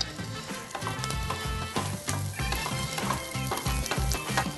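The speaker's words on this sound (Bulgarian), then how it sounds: "Накълцаното чоризо сотирам със съвсем малко мазнина." Chopped chorizo sizzles and fries in a pan with a little fat, a steady crackle broken by repeated stirring scrapes, close and moderately loud with no talk.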